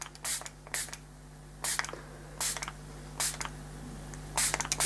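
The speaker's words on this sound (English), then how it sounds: "And then I'm going to spritz lightly." Short broadband hisses from a hand spray bottle misting water onto a watercolor and ink sunrise landscape, about six separate spritzes in an irregular rhythm, close and moderately loud with no talking.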